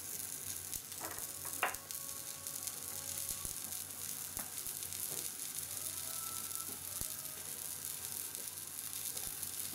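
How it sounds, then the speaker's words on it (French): Pieces of mochi frying in an oiled pan for vegan breakfast croutons give a steady, close sizzle with faint crackles and ticks throughout, and no one speaks. "Donc ça grésille, vous allez voir, ça va commencer à fondre."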